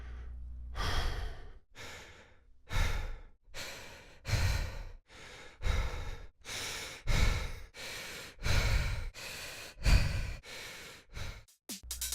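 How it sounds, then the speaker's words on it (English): Heavy, labored breathing of a video game character alternates in slow inhale and exhale cycles, about a dozen breaths, close and loud with short pauses between, ending in quicker gasps. "The lower his health is, the faster and higher his breathing will be."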